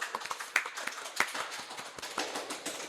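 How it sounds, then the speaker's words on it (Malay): Scattered, light clapping from a small audience, several sharp separate hand claps over a few seconds, close and moderately loud. "Tepuk tangan sikit."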